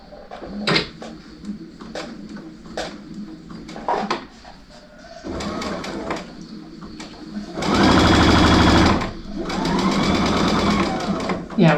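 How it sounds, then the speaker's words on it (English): Sewing machine stitching quilt fabric for a sampler quilt, starting with scattered clicks and handling noises, then bursts of steady whirring stitching, the loudest run in the middle; a person talks intermittently. "When I tend to sew too fast, all my stuff gets off."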